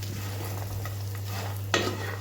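Food frying in a pan is stirred with a sizzling hiss over a steady low hum, soft scraping strokes here and there, and one sharper scrape near the end.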